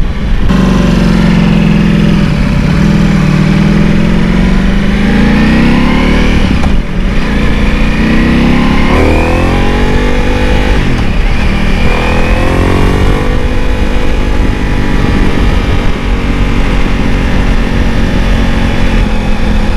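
A Ducati Multistrada Pikes Peak V4 motorcycle being ridden, its engine droning loud and steady throughout with shifting pitch as it speeds up and eases off, plus wind rush.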